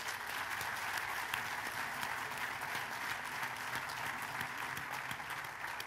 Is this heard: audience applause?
yes